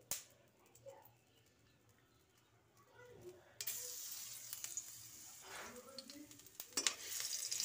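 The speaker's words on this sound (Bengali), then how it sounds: "রসুনটা ভালো করে ভেজে নেব।" Garlic paste hits hot oil with a soft sizzle that swells into a steady, hissing fry midway, with spoon stirring and faint voices early on.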